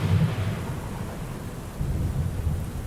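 A deep rumble of thunder rolls over steady, heavy rain in a biblical flood scene, loud and continuous with a second swell of low rumbling near the end.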